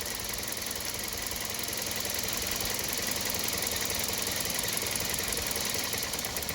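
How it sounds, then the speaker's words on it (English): A Toyota Corolla Verso engine idles with the connector pulled off the number 1 fuel injector, a steady close-up mechanical clatter and hum with no talking. "I'm going to disconnect the connector on the first injector number 1."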